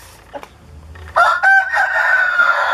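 A Bangkok classic rooster with jalak-colored plumage crows once, loud and close, with a long sustained call after a few brief soft clucks and rustles.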